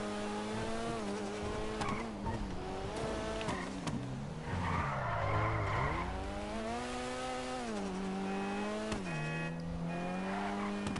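The Jester Classic, a Supra-style sports car in Grand Theft Auto 5, revs hard with its engine pitch rising and falling between shifts while tires squeal in long skids, loud and continuous.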